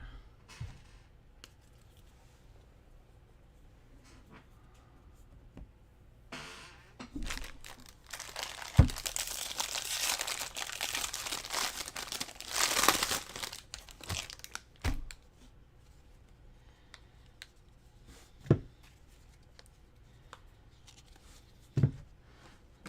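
Paper crumpled and shoved aside during a Bowman Draft baseball card break: a long burst of crinkling and rustling, then scattered sharp taps and handling thumps in a quiet room.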